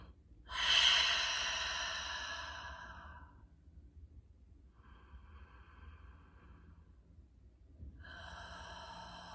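A person breathes slowly and deeply, close by in a quiet room: one long, loud exhale like a sigh, a softer breath in the middle, then another breath starting at the end.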